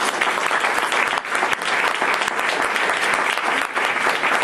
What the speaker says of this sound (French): beaucoup d'applaudissements très chaleureux